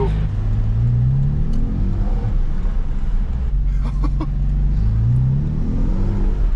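Porsche track car with a bucket seat, under 1000 km, being driven: a loud steady engine drone and rumble runs throughout, with a few rising rev swells near the start and end.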